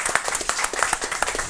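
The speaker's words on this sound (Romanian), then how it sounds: "Hai să ordine de aplauze pentru Bianca" Audience applause for Bianca, a winner on a Romanian comedy panel show: dense, steady clapping from a crowd across the whole short stretch, loud and close, with no talk over it.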